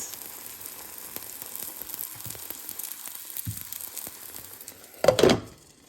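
A savory high-protein vegetarian pancake sizzles softly in a pan as a quiet continuous crackle. It ends with a louder hiss and a clatter as it is flipped and covered.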